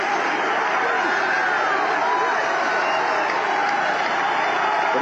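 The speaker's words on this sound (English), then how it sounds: "Pretty good sized little crowd here at Nickerson Field, making some noise" A crowd at a Nickerson Field football game between the Philadelphia Stars and Boston Breakers in 1983 makes a continuous murmuring roar, steady and moderately loud, with indistinct voices mixed in.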